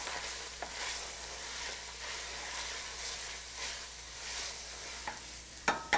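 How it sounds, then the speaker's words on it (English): Spicy food with thyme is stirred in a pan, sizzling and hissing steadily while a utensil scrapes and clicks against the pan, with a few sharper knocks near the end; no talking. "And give it a little stir."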